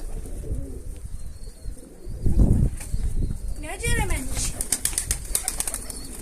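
A pigeon bursts out near a coop and flies off, with a quick flurry of close wing flaps and some cooing, while people talk throughout.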